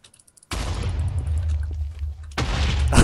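Creeper explosions in the Minecraft video game, a loud booming blast that rolls on for nearly two seconds, then a second burst near the end, heard alone without talk.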